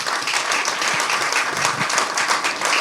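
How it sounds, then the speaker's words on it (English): Audience clapping for a speaker at a music co-operative launch event, a full, continuous burst of applause from a crowd, fairly close and even throughout. "Round of applause for Mark, everybody"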